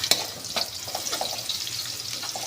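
Garlic frying in hot oil until golden brown, a steady close sizzle with occasional crackles and light stirring.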